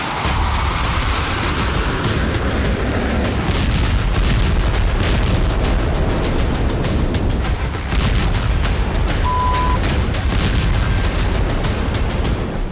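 Explosions from Israeli bombing in Beirut, heard as a dense, continuous roar of blasts and rumbling with sharper cracks scattered through it, loud and sustained with no speech over it.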